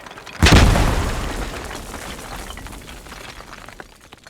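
In the video game Post Scriptum, in a Belgian village, a sharp explosion blast is followed by a long decaying rumble with scattered clatter and crumbling of falling debris.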